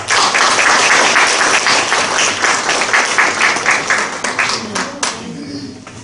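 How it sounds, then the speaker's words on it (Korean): Warm applause from an event audience at an election campaign ceremony welcomes the deputy county governor to the podium, dense and loud, then thinning toward the end as a voice begins. "단상으로 따뜻한 박수로 모시겠습니다"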